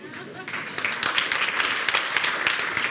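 A TEDx audience applauds with dense, steady clapping from many hands, rising slightly and then holding, with some voices mixed in.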